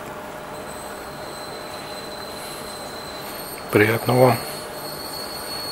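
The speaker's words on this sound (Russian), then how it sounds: "Сейчас находимся в поезде." Passenger train running on rails to Tarragona, Spain, a steady low rolling rumble inside the carriage with a brief squeal of wheels, while a person speaks briefly in the middle.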